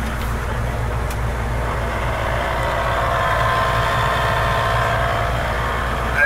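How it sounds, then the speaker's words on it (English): Blower motor of a 1967 Mustang GT 390 running with the car's engine idling, a steady low rumble and faint whir holding evenly throughout with no talk. "I'm going to turn the blower motor on."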